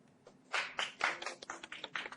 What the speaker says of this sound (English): give a big Second Life round of applause to Andrew